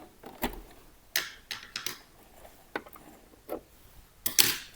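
A sewing machine sewing a backstitch at the end of a seam, short bursts of mechanical whirring and clicking separated by quiet pauses, close and fairly loud with no talk.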